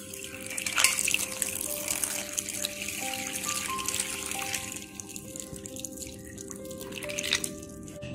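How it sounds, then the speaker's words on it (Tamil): Water poured for a mint lime juice, a steady near splashing and gurgling stream filling a container, with rising pitch as it fills and a brief trickle near the end. "நான் ஒரு 2 கிளாஸ் அளவுக்கு தண்ணி"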